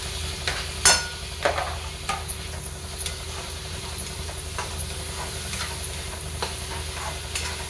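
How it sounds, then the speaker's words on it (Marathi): Chopped tomatoes frying in a pan for a dried fish curry, with a steady close hiss of sizzling oil and scattered clicks of a spatula stirring throughout, no voices. "टमाटर टाकून घेऊ।"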